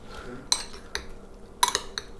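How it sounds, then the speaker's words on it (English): A spoon clinking against a dish while kiwi salsa is spooned over shrimp: four sharp, close metallic taps spaced irregularly, each ringing briefly, with no voices. "And spoon a little bit of kiwi salsa right over each one."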